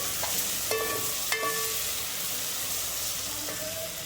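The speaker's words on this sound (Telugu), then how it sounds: "ముక్కలన్నీ బాగా వేగిపోయినాయండి" Chopped vegetables for a vegetable biryani fry in a pan, giving a steady soft sizzle throughout, with a few light clinks of stirring on top.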